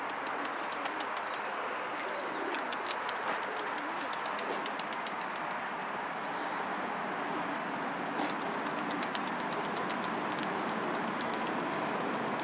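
A large flock of hundreds of pigeons coos steadily in the open air, soft and somewhat distant, over a dense background hiss with faint fluttering.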